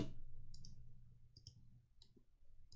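Computer mouse clicks while drawing rectangles in AutoCAD, about four or five crisp, quiet clicks spaced irregularly over a low background hum.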